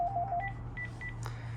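A Panasonic KX-TG9541 DECT 6.0 two-line cordless phone sounds intercom call tones: a run of quick high beeps, then three short paired tones and a brief click, close and clear over a low steady hum.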